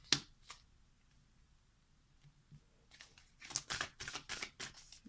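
A deck of playing cards being shuffled: a couple of sharp snaps at the start, a quiet pause, then a quick run of crisp riffling clicks toward the end.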